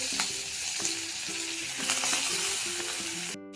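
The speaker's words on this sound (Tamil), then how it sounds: "இப்போ அதே கடாயில் எண்ணெய் விட்டு கடுகு, உளுத்தம்பருப்பு, பெருஞ்சீரகம், கருவேப்பிலை," Mustard seeds, urad dal, fennel and curry leaves sizzle in hot oil in a kadai with a steady, close crackling hiss that cuts off abruptly at the end, while faint tonal sounds run underneath.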